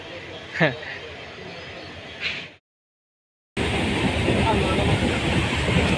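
Rumbling train noise with a crowded murmur of voices on a packed train in Assam; after a brief silent gap, a loud, steady rolling roar of the train takes over.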